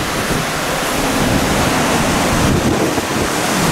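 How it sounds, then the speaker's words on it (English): Strong storm wind roars across a balcony in Malta, a loud, continuous broadband rush with gusting buffets against the microphone and no audible voices. "You probably won't be able to hear me at all because the wind is so loud"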